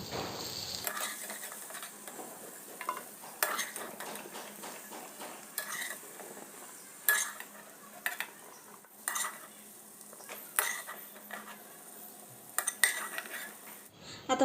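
Fried raw banana pieces are scraped and scooped from a kadhai into a dish, giving sharp metal clinks and spoon scrapes against the pan over a faint sizzle.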